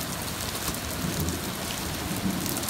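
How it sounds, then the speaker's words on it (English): Heavy rain with hail pours down in a dense, steady wash of noise, with faint scattered impacts in it and no talking. "it is pouring"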